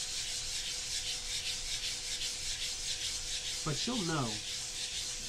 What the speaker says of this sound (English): I want to say that it's 150 grade, my little sanding block here.